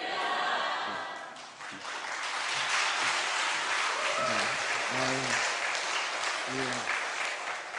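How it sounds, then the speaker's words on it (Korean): Church congregation at an afternoon worship service applauds to welcome a guest speaker, a broad, loud, continuous round of clapping that swells and holds. A few voices rise briefly through it. "나오실 때 우리 오른손 높이 들면서 큰 박수로 환영해 주시기 바랍니다"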